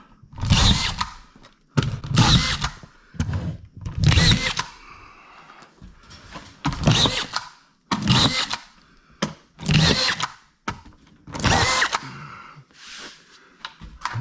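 A power drill drives screws into drywall while a first house is being built, giving about eight loud, separate bursts of whirring, each a second or so long, with short pauses between them.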